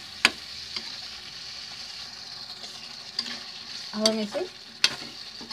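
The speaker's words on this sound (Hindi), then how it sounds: "धीमी आंच पे थोड़ी देर अच्छे से भून लेंगे जिससे हमारे मसाले अच्छे से पक जाए।" Spices for gobhi kofta masala roast on a low flame, a quiet steady sizzle broken by sharp clinks and scraping stirs of a spoon against the pan. A voice speaks briefly.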